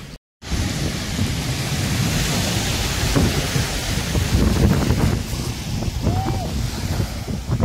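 Continuous rushing surf with heavy wind buffeting the microphone, a roaring wash of sea waves at close range on a beach in Italy.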